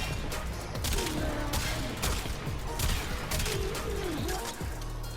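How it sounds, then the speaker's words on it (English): Kuva Quartakk assault rifle in Warframe firing in rapid bursts, dense repeated shots close and loud, with a short clanking mechanism between volleys and faint talk underneath. "So this is burst fire."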